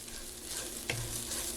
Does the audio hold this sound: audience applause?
no